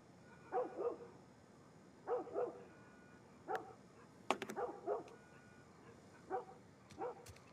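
A dog in the video game The Last of Us Part I barks in a string of about eight sharp barks, spaced a second or so apart, at moderate loudness over a quiet background.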